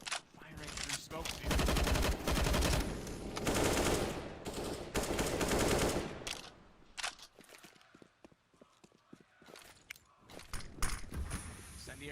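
Rapid bursts of automatic gunfire fired through smoke in a professional CS:GO match, loud sustained volleys followed by sparser single shots and clicks, with commentators talking over it.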